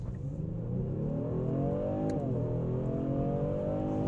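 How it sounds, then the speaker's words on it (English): A 365-horsepower twin-turbo V6 in a rear-biased all-wheel-drive sedan accelerates hard, its loud, continuous engine note climbing steadily in pitch, with a brief dip at a gear change before rising again. "365-horsepower twin-turbo V6, which absolutely wails."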